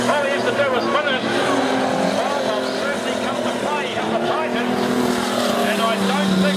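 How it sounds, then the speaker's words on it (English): Race car speeding past on a speedway track during a derby event, a loud sustained engine roar with shifting pitch, mixed with other engines and a commentator talking over it. "the 156 car goes through"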